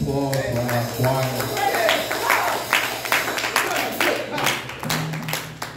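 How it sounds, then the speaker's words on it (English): A church congregation claps for its choir: scattered, rhythmic handclaps that run throughout, mixed with a preacher's voice and sung or spoken exclamations. "Give another round of applause for our choir."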